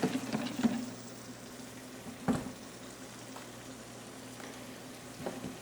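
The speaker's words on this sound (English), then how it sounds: "you can see that we're sauteing our mushrooms" Mushrooms sautéing in a pan for beef burgundy give a soft, steady sizzle with a few louder clatters from stirring near the start and middle.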